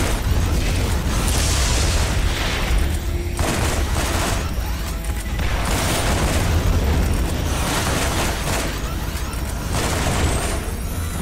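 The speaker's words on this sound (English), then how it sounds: "The freaking homing rockets suck." Rapid, repeated explosions from homing rockets in the video game Borderlands burst in clusters with booming pops and crackling debris, staying loud and dense across the stretch without speech.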